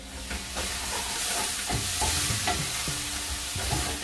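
Garlic and ginger paste frying with finely chopped onion in hot oil, a continuous close sizzle punctuated by repeated scraping stirs of a spatula at an uneven rhythm, with no speech.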